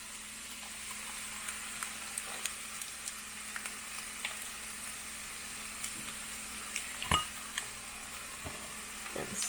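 Sauce poured into a hot pan sizzles with a soft, steady crackle, with scattered clinks of a utensil against the pan and one sharper knock partway through.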